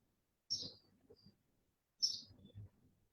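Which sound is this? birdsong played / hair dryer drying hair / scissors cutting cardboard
birdsong played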